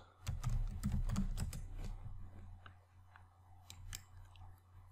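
Rapid typing on a computer keyboard while searching in a web browser, a dense burst of close key clicks followed by sparser taps.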